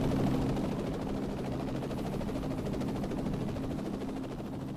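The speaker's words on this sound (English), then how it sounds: "the pair took off and turned the helicopter south and began the long flight down the globe" A helicopter in flight at the North Pole, its steady rotor chop and engine drone holding loud and constant throughout.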